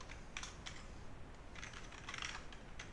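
Keys clatter on a computer keyboard as code is typed, a quick run of close, crisp taps in short bursts with small pauses, over a low steady room hiss and with no talking.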